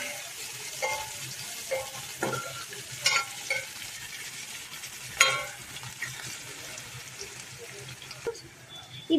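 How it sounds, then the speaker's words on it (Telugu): Chopped onions fry in a pan for chicken biryani, a soft sizzle punctuated by sporadic clattering stirs, close and moderately quiet. "until we get golden yellow we have to fry it"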